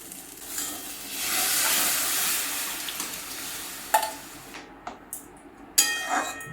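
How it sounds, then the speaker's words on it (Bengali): Cooked lentils (dal) are tipped into a pot of softened pumpkin and green papaya for shukto dal, giving a broad wet hiss and sizzle that swells then eases, followed by a few sharp clinks and scrapes of a spoon against the pot. "এবার আমি এতে ডালটা দিয়ে দিচ্ছি"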